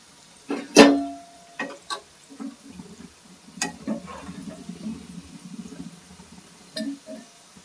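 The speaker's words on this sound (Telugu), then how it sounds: "మరేమో కాలీఫ్లవర్ పకోడీ బాగా వేగిపోయింది, కలర్ వచ్చింది" Cauliflower pakoda deep-frying in hot oil: a faint, low sizzle runs beneath sharp metallic clinks and taps of a utensil against the pan, with one loud clank near the start and scattered knocks later.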